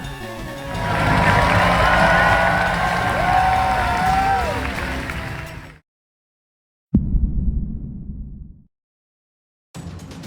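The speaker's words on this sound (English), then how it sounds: "the crowd cheers loud for his win" A loud, steady crowd roar with cheering and whistles for several seconds at the Pokémon World Championships in Anaheim, then a sudden cut to silence, followed by another short burst of crowd noise.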